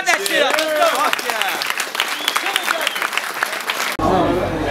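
Crowd at a rap battle clapping and cheering loudly, with shouting voices and whoops layered over the steady clapping before it cuts off abruptly near the end.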